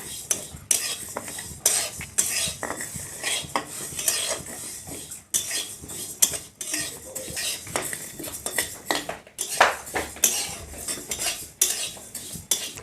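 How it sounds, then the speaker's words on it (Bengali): A utensil stirs and scrapes dry mung lentils in a metal pan, with continuous rattling and clinking and no voices. "একটু নেড়ে চেড়ে ভেজে নেব।"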